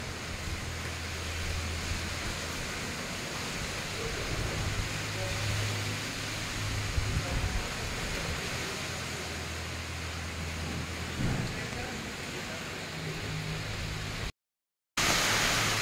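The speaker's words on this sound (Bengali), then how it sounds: "জোর বাড়ছে বৃষ্টির আস্তে আস্তে" Dense, roaring hiss of heavy rain and gusting wind, continuous and loud, filling the whole scene with only a brief cutout near the end.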